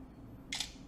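Lenovo K4 Note smartphone camera shutter, a single short crisp click-snap heard halfway through, brief and fairly quiet against a low background hum.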